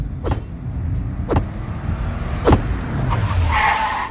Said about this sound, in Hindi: अरे अब गाड़ी क्यों रोक दी?